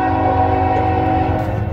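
A Union Pacific eastbound autorack freight train in Texas passes close and loud, a heavy continuous rumble with a sustained horn-like tonal blast over it, no talk.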